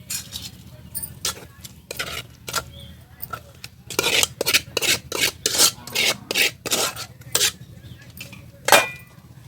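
Gongura leaves pounded into chutney with a pestle, a run of sharp scraping and grinding strokes that start sparse and then speed up into a steady, close rhythm.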